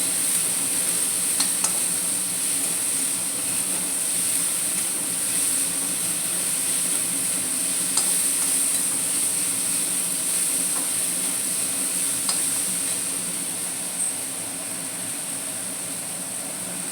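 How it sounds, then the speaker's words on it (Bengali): Leftover rice and cabbage sizzling steadily in a hot pan for breakfast, a continuous close hiss with a few faint scrapes of stirring. "একটু ভালো করে ভেজে নেব।"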